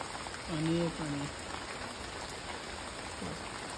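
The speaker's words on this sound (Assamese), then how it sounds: "কেনেকা বৰষুণ পৰি আছে পুৰা পানীয়ে" Heavy rain falls steadily on a village, a constant hiss of drops with no let-up, and a voice speaks briefly near the start over it.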